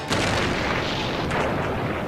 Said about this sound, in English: Seconds later, another blast.